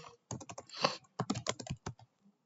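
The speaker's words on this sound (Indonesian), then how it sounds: "Di sini kita bisa langsung dengan mengetik switch port akses VLAN 10." Keys clatter on a computer keyboard as a network switch command is typed, a quick uneven run of close, crisp clicks in several bursts, with no talk.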